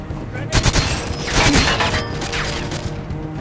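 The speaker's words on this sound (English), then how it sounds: "I've never seen so many grenades in one, freaking level before." Grenades going off in GoldenEye 007 on the Wii, Solar level: a cluster of loud, overlapping blasts and crashes in quick succession, with game noise carrying on under them.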